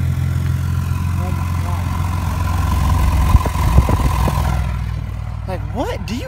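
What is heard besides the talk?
car engine idling with loud exhaust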